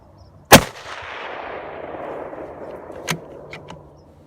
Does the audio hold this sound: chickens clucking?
no